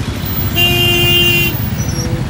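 One loud, sustained car horn blares for about a second amid steady road traffic near Darbhanga airport, followed by continuing engine and street noise.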